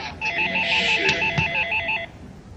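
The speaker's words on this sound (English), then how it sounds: "I'm awakened by the incessant ringing of a telephone." A telephone rings once with a rapid electronic trill, a single clear burst lasting about two seconds before falling quiet.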